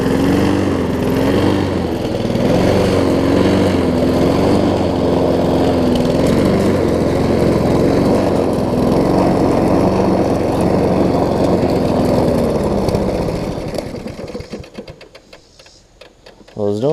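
A well-used Honda push mower engine drones steadily at close range, then dies down and sputters out near the end.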